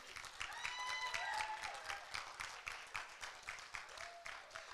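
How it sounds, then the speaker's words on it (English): A crowd claps for the judges at a butcher competition finale, an even round of applause that thins into scattered separate claps toward the end, with faint tonal sounds in the background. "can we give a big round of applause to all of our judges that are here and judging this competition?"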